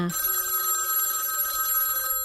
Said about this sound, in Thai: มีโทรศัพท์เข้ามา